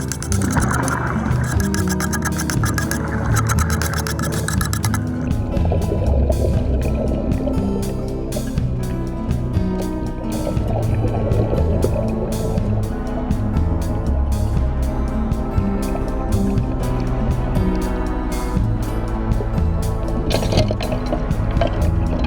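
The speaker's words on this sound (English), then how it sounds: "I was also having a problem here with my regulator. It's just purging air." Scuba regulator purging air underwater during sailboat running-gear repair on a cutless bearing, a loud continuous bubbling roar with gurgling rushes of air, steady and close throughout the whole stretch.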